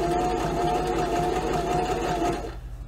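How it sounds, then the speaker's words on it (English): A mechanical sewing machine running a reinforcement stitch, steady close whirring and rapid needle chatter that cuts off near the end. "It actually looks like the machine is doing something weird, but it's doing a reinforcement stitch."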